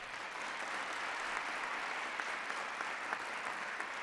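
Audience clapping at a spring SOMOS gathering where assemblymen spoke, a steady crowd applause at moderate distance, fairly quiet and even, with a few sharper individual claps standing out near the end and no voices.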